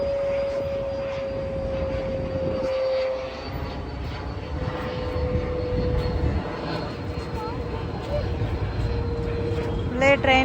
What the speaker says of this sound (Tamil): ட்ரெயினும் வருது ஃப்ளைட்டும் போகுது